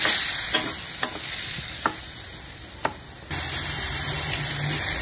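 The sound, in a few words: masala cooking in a pan for potato bhaji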